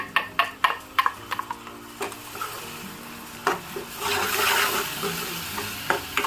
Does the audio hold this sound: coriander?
yes